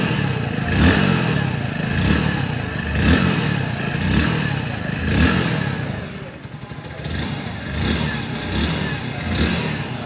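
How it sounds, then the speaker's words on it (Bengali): A new-engine 2025 Hero Passion Plus motorcycle runs close by, its exhaust giving a steady thrumming idle with rhythmic swells of revving every second or so for about ten seconds. "সবার আগে চলুন এর এক্সস্ট সাউন্ডকে একবার শুনে নেওয়া যাক, কারণ একদমই নতুন ইঞ্জিনের সেটআপ এখানে দেওয়া হয়েছে।"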